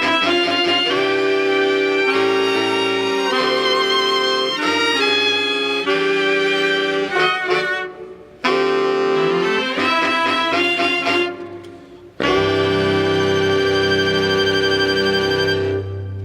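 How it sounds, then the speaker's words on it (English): Reed and string sections of the San Diego Musical Theater orchestra play together in a loud, full passage of sustained chords and moving runs, with a brief drop before a final held chord and no talking. "Reeds and strings together."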